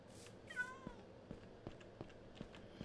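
A short, fairly faint meow from a house cat in a room, one brief rising-and-falling call near the start, followed by scattered light taps and clicks.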